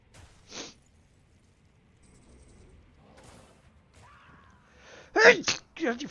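A man sneezes at a computer during a game session: one sharp sneeze early, then after a quiet stretch a louder, forceful burst of sneezing near the end, with some faint muttering between.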